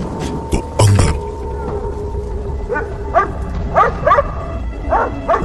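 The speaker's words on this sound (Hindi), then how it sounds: "भौंकने की आवाज आ रही थी" A dog barks indoors in a house, with a few sharp barks early on and then a run of repeated yelping barks, loud and close over background noise.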